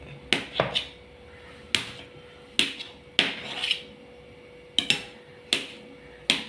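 Glycerin soap base being cut into small pieces with a knife, giving a run of sharp, close chopping knocks at an uneven rhythm, roughly ten strikes with short gaps, with no talking.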